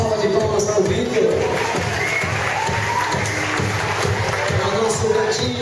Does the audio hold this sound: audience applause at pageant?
yes